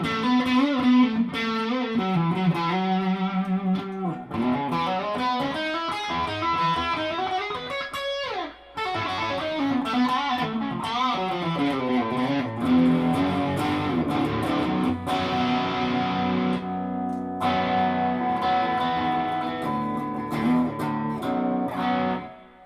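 A Jim Root Stratocaster electric guitar with hot pickups plays through overdrive distortion on a clean amp setting, sustained chords and riffs ringing loud and continuous with a brief dip mid-passage.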